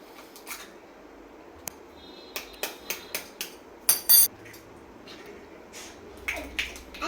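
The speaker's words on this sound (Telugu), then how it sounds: "ఫస్ట్ మనము ఎగ్స్ని కొట్టుకోవాలి" Eggs beaten for egg dosa: a series of sharp clicking taps of a utensil against a bowl, spaced and then quicker, with a couple of louder knocks, close and with no speech.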